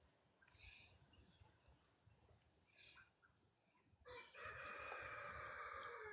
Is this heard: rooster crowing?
yes